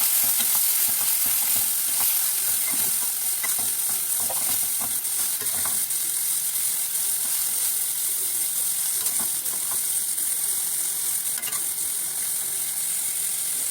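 Lightly fried hilsa fish sizzles in oil with a paste of coconut, green chili, turmeric and salt, a steady close frying hiss with scattered stirring scrapes and spatters throughout.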